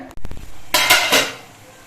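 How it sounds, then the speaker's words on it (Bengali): A metal wok holding some water is set down on a gas stove, making a few quick metallic clanks followed by a brief rattling scrape. "কড়াইয়ের মধ্যে কিছুটা পরিমাণ জল দিয়ে আমি গ্যাসে বসিয়ে দিচ্ছি"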